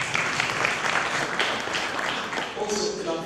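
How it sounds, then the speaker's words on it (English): An audience at a regional health sector review meeting in Kigezi claps for members of parliament, a moderately loud, steady patter of hands with a voice speaking over it near the end. "Please clap for members of parliament"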